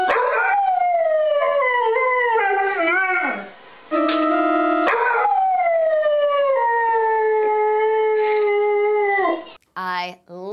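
Cartoon dogs howl in a musical concert, wavering sustained tones rising and falling loudly for about nine seconds, then a brief pause and a short yelp-like burst at the end.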